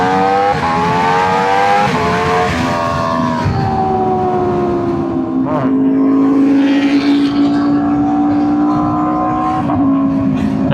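Several 600cc sport motorcycles race past with high, revving engine whines that rise and fall through gear changes, loud and close, with wind rush underneath.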